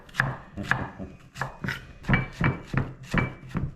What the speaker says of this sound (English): Chop it up pretty nice, fine cut.